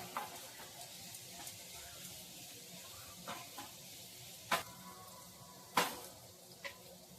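Onion frying in a pan for Malvani sukka chicken, a soft continuous sizzle with a few sharper scrapes and clicks from a stirring spoon, quiet and close.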